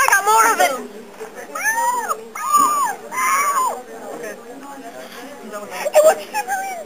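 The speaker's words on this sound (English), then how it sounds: "it sounds like a cat. And it goes, meow." A cat meows repeatedly in rising and falling cries, close and fairly loud, with people talking over and between the meows.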